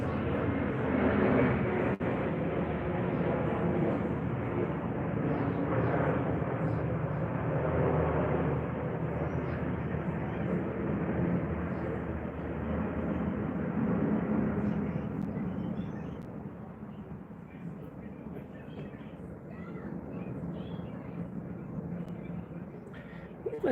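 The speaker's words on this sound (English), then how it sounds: "sounds like a big plane to me" A Boeing 777 airliner drones overhead with a loud, steady broadband roar that slowly fades and thins toward the end, with faint voices audible beneath it.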